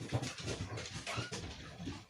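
Dogs barking and whimpering downstairs at a moderate distance, a restless burst of canine noise that keeps going throughout.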